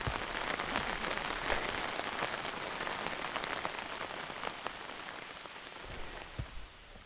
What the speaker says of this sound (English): And then the rain did come.